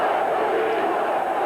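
Large stadium crowd at a Miami Dolphins at Rams NFL football game roaring and chanting for a replay, a dense sustained wall of voices filling the air with a commentator talking over it.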